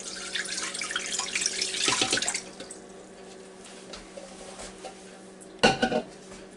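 Water pours noisily into the metal pot of a Ninja Foodi for a couple of seconds, then quiet room tone, ending with a brief clank of cookware.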